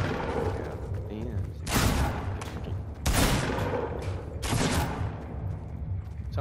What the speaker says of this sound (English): Someone, I believe, is shooting me in the back.